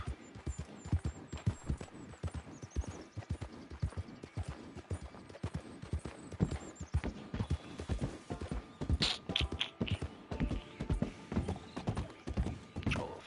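A horse in the Red Dead Online video game gallops along with steady, rhythmic hoofbeats and clip-clop thuds, close and continuous, with faint creaks of tack.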